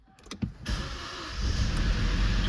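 Vauxhall Astra engine with a timing chain and intake valve fault cranks briefly, then catches and revs up fast into a loud, steady roar, close by.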